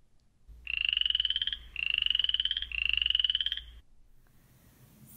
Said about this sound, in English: 'Cause what do frogs actually say?